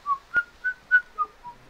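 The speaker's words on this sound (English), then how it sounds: "Stop whistling and move." A person whistles a short tune of six clear, high notes, close and distinct, with a faint click near the start.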